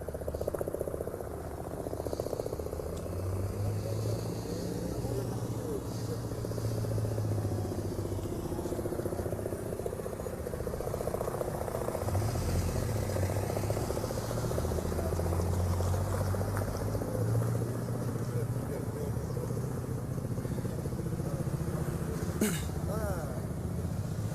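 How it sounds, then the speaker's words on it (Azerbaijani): A firefighting helicopter, refilled with water, approaches over a large logistics warehouse fire in Baku; its low rotor drone runs steadily throughout, with outdoor ambience and faint background noise, no clear voices. "yenidən doldurulan yanğın söndürən helikopter əraziyə yaxınlaşır"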